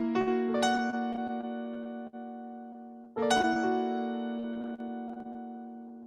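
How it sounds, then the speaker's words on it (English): Two ringing piano chords with a sharp 11 added in the left hand, each struck loudly with rolled upper notes and left to decay, the second about three seconds after the first. "So in other words, the entire chord would sound something like this."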